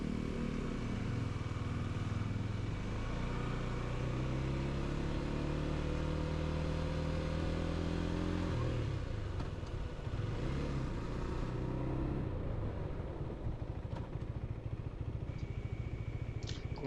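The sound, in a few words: riding a Husqvarna Svartpilen 401 motorcycle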